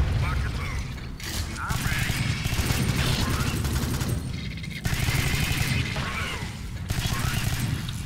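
Gunfire in the sci-fi shooter Alien Swarm, dense rapid mechanical bursts repeating in loud stretches broken by brief pauses, close and continuous.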